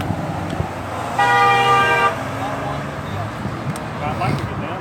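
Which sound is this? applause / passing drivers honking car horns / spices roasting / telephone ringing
passing drivers honking car horns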